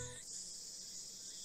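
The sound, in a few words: cicadas chirping at shrine in Steins;Gate video game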